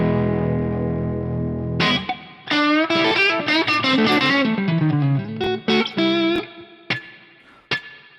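Electric guitar played through a Fractal preset with tube spring reverb, heard alone: a sustained chord rings, then a run of distorted single notes and bends gives way to sharp, separate stabs whose spring reverb tails hang in the space between them.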